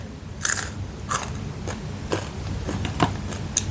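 Crunchy fried fish being bitten and chewed up close, with a run of crisp crackling crunches at an irregular rhythm.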